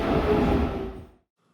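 A Queensland Rail SMU 200 electric train gives a rolling rumble that holds steady, then fades away quickly within about a second, leaving near silence.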